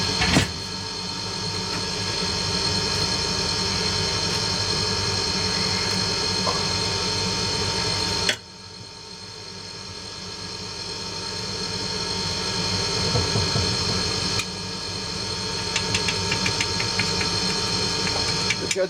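A workshop extractor fan runs steadily while metal is cast into oil-bonded petrol bond sand, a constant whirring hum with mechanical ticking, briefly dropping in level partway through before building back up.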